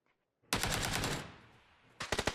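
Automatic gunfire in a competitive shooter video game starts after a half-second of silence as a loud sustained burst that fades out. A second volley of distinct rapid shots follows near the end.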